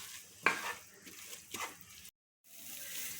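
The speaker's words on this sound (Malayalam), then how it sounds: "ഇനി നമുക്ക് ഇതിലേക്ക് നമ്മുടെ ക്യാരറ്റും ബീട്രൂട്ടും ആഡ് ചെയ്ത് കൊടുക്കാം. എന്നിട്ട് ഇതൊന്ന് സോട്ട് ചെയ്തെടുക്കാം." Carrot and beetroot sauté in a pan with a soft frying hiss, broken by a couple of louder scraping stirs and a brief moment of total silence before the sizzle resumes.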